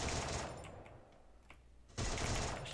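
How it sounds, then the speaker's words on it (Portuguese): Rapid automatic gunfire in the mobile shooter Free Fire played on an emulator: a dense burst of shots, a brief lull with scattered single cracks, then another sustained burst, fairly quiet overall. "O tiro tá indo retinho"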